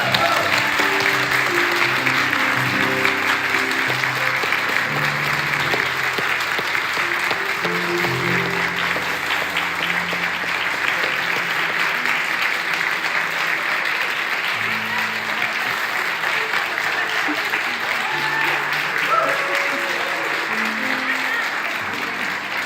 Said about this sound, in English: Save some more applause.